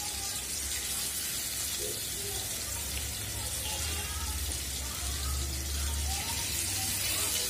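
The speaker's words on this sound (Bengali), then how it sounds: "মাছটা আমি ভাজি করে নিব।" Fish rubbed with turmeric, salt and chili fries in hot oil in a pan, a steady, bright, even sizzle that holds a constant level throughout, with faint kitchen sounds underneath.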